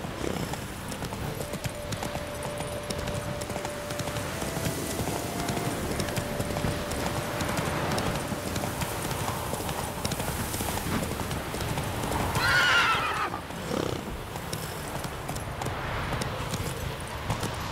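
A horse gallops in The Witcher 3 game, steady rapid hoofbeats clip-clopping on ground for the whole stretch, with a brief whinny near the end and soft game ambience underneath.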